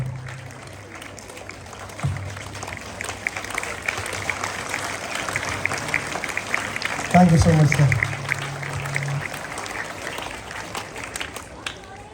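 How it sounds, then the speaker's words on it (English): Audience applause at a school literary association event welcoming the headmaster, moderate and sustained beneath voices, with a louder burst of handling noise midway and a brief thank-you spoken near the end. "Give a big round of applause to welcome him"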